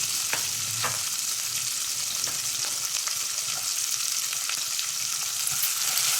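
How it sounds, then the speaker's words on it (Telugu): Finely chopped onions and green chillies fry in a pan with a steady, close sizzle, broken by occasional stirring scrapes and soft crackles, no voices. "పచ్చిమిరపకాయలు వేగిన తర్వాత కాస్త ఉల్లిపాయలు సన్నగా తరిగినవి వేసుకొని వేయించుకోవాలి"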